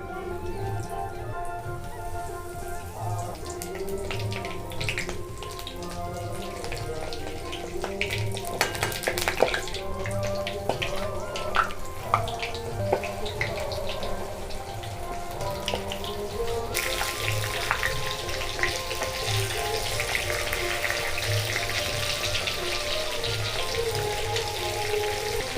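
Prawn pakoras frying in hot mustard oil, a steady crackling sizzle that runs continuously and grows brighter and busier partway through, with scattered pops and spatters.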